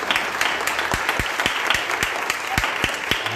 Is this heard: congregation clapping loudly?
yes